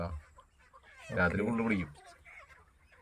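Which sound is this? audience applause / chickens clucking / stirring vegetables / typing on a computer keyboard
chickens clucking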